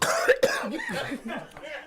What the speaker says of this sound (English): stop all that motherfucking coughing now